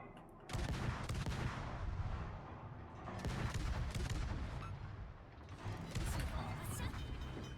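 Warship guns firing in World of Warships, the Akizuki destroyer's battery booming in dense, heavy repeated salvos that stay loud and continuous throughout.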